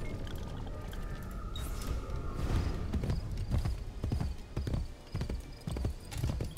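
A horse gallops in the video game Assassin's Creed Brotherhood, with rapid rhythmic hoofbeats thudding continuously at close range, and a brief whinny near the start.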